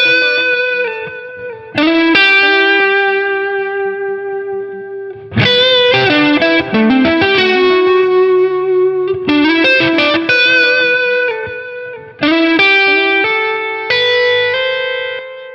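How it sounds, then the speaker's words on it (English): Compressed electric guitar processed through Line 6 Helix Native, playing sustained distorted chords and single notes in several phrases with short gaps between them, loud and upfront with light effects and reverb. "I will bring in the compressor as well in Helix Native"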